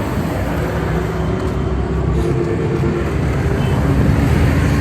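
A Suzuki Cultus car's engine idles at a lot of used cars for sale in Pakistan, producing a loud, steady low drone throughout with no voices.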